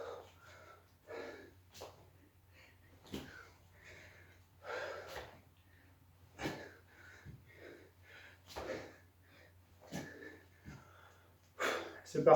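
Heavy breathing during burpees in a boxing-style workout: repeated sharp exhales and snorting breaths at an irregular rhythm, fairly close, over a low steady hum.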